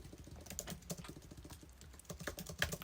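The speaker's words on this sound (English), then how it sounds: "I should really take 10, maybe 15 minutes off this because I'm typing" Steady typing on a computer keyboard, a rapid close patter of keystrokes with a few louder clacks near the end, no voices.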